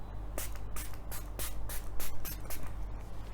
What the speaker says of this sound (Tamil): இப்போ வந்து நான் இதை லைட்டாக ஸ்ப்ரே பண்ணிக்கிறேன்